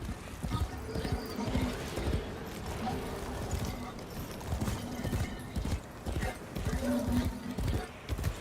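Rhythmic horse hooves clip-clop steadily in the video game Warframe, with a brief whinny and some faint background voice mixed in.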